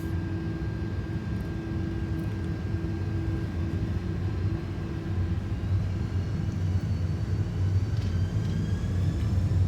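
Steady roaring rumble of Airbus A330 engines spooling for takeoff in a flight simulator, a continuous loud drone with a faint rising whine and no talk.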